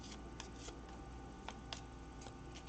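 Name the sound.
shuffling tarot key cards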